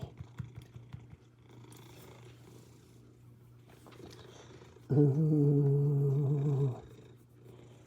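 A big cat purrs with a low rumbling rattle, first in short pulses and then in a louder, sustained rolling purr up close, and a person briefly murmurs once.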